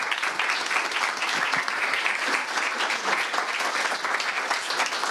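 Dense, steady applause from an audience after a panel talk, a continuous close wash of many hands clapping for about five seconds with no break.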